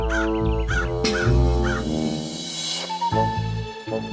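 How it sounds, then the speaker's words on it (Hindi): Animated-story sound effect of a crow giving several loud, harsh caws in quick succession, close and clear, followed by a lower tonal sound at the end. "उस पेड़ के पास एक और पेड़ था जिस पर एक कौवा रहता था।"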